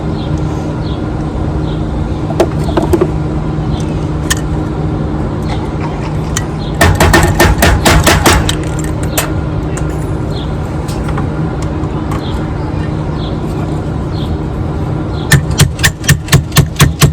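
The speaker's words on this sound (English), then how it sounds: "Put these rivets in." Rivets are hammered into copper roof shingles on an 1884 house, with sharp metallic strikes: scattered single taps, then two rapid bursts of blows over a steady background hum.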